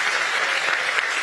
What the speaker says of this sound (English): a big final round of applause to all presenters from